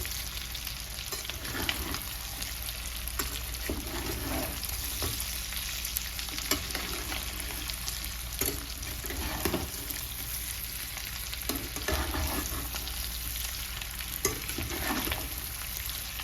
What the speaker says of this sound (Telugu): మాడిపోకుండా ఇదంతా బాగా ఫ్రై చేసుకోవాలి